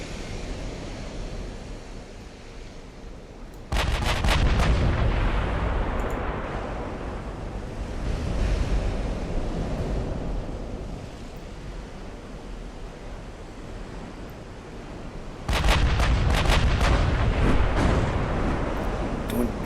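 Heavy naval gunfire in Ultimate Admiral: Dreadnoughts, with two loud, booming battleship salvos that rumble and crackle over a steady roar of sea and wind, one early and one near the end.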